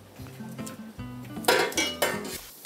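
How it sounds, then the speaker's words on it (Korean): Ramen bowls being washed quickly in a restaurant kitchen: ceramic dishes and cutlery clink and clatter in close, irregular bursts that grow louder toward the end. "라면 그릇 빠르게 씻어줄 수 있겠어?"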